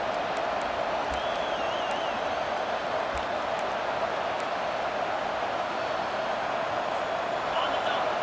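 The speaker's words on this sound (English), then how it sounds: "Listen to this crowd just shaking the girders of this place, trying to help their defense" A football stadium crowd at a college game between West Virginia and Oregon roars in a constant, dense wash of noise, loud and unbroken, with a few faint whistles rising above it.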